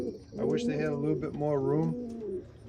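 Racing pigeons coo softly in a loft, their low murmuring heard beneath a person talking close by for most of the moment.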